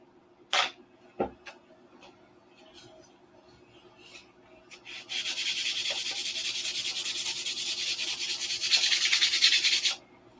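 A 1/2A Cobra model's stabilizer is sanded with 320 grit paper, a steady close scratchy rubbing that lasts about five seconds after a few light taps and handling clicks.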